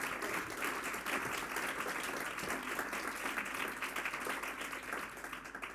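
Audience applause at a London conference event, a dense steady patter of many hands clapping throughout, moderately distant and even in level.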